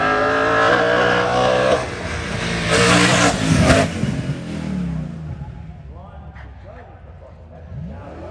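A Tiger Racing car on the Shelsley Walsh hill climb accelerates hard past the listener, its engine rising loud and harsh mid-clip, then fading into the distance as it climbs away, with crowd and commentary faintly around it.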